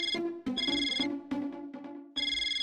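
A phone ringtone plays alone, a bright electronic melody of repeated tonal bursts with short gaps, clear and fairly close.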